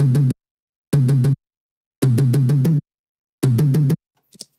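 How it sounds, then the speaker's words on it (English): A tape-style funk tom sample from Cosmos played melodically in short bursts, four groups of rapid tuned hits separated by silences, loud and dry. "So this is actually just a tom sample that comes with Cosmos"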